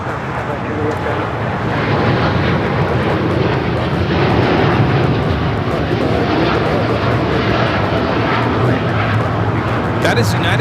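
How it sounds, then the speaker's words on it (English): A United Airlines Boeing 787-9 Dreamliner bound for Tokyo Narita takes off from LAX, its jet engines giving a loud, continuous broadband roar with some wind buffeting, while people talk over it. "That is United Airlines Flight 32 taking off to Tokyo Narita on the 787-9 Dreamliner"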